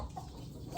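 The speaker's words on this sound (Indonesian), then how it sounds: "Nih, Bintang kasih makan ayam nih." Chickens cluck softly while being fed in a rural village yard, two brief faint clucks over quiet background.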